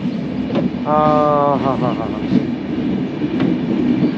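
Train running on rails between Dhaka and Panchagarh in cold northern Bangladesh, a steady rumbling roll with a brief high squealing tone early on and faint rhythmic clatter throughout.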